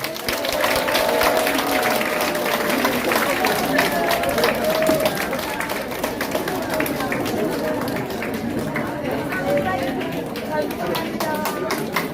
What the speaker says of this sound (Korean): 건강하시라고 박수 한번 보내주세요.